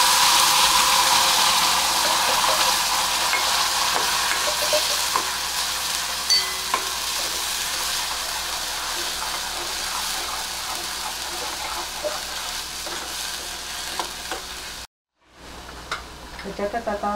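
Ground masala paste fries with browned onions for kaju masala, crackling in a loud, continuous sizzle with stirring scrapes; a brief silence near the end, then the frying resumes.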